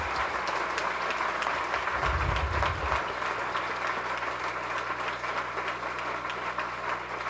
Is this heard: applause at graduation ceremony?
yes